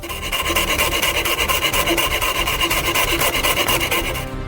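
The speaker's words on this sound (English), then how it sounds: "We cut it out with the jigsaw from thin fiberboard." Jigsaw cutting a thin fiberboard stencil, a loud, close, rapid rasping buzz with a fast regular stroke rhythm that runs continuously throughout.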